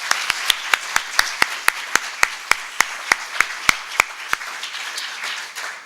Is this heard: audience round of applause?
yes